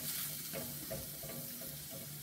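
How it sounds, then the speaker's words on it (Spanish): Peppers and onion frying in a pan for a chicken pie in poblano chile sauce, giving a steady close sizzle with light stirring scrapes throughout. "Vamos a sofreír chile pimiento con la cebolla."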